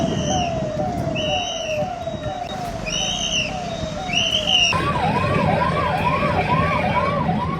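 Ambulance siren on a highway, loud and close, wailing in repeated sweeping rises and falls, then switching to a faster yelping pattern with layered tones over steady traffic rumble, no talk.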